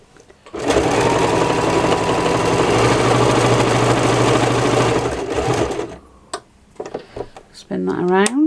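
A sewing machine stitches machined patchwork for an embroidered picture in one loud, continuous whirring run of about five seconds, then stops, followed by soft handling noises and a brief voice.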